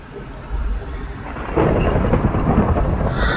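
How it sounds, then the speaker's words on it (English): A rolling thunderclap from a Minecraft thunderstorm, rumbling in low after half a second and swelling louder partway through, with a rain-like hiss under it. "Lightning can sound awesome, but be scary all at the same time."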